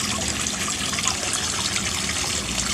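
Water pours continuously down a small homemade waterfall built on a budget of 80,000, a close, steady rushing splash that stays even throughout with no other sounds.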